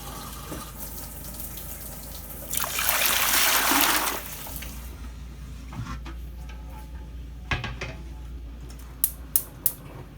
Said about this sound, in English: I'm going to whack in a nice big slosh of vinegar, because we don't want lime scaly jars.